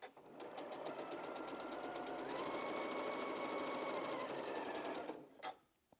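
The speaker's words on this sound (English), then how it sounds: "So let's take those to the machine and do that." A sewing machine runs in one continuous, fairly quiet stretch of rapid stitching for about five seconds while piecing quilt strips with a quarter-inch seam, then stops with a brief click, with no talk.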